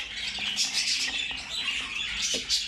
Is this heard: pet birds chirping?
yes